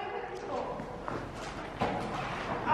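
A person imitates a horse in an arena, making clip-clop hoof sounds in an uneven trotting rhythm, with brief thumps and voices around them.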